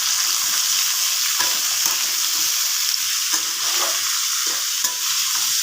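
Onion, potato and tomato frying in a pan, a steady loud sizzle with occasional scrapes and clinks of stirring, no talk.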